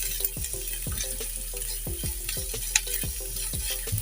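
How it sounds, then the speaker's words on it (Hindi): Chopped onions and green chillies sauté in a pan with a steady sizzle. Regular scraping knocks from a spoon stirring against the pan come about twice a second, close and moderately loud, with no talk. "और इसको भी आप थोड़ा सा सौते कर लें।"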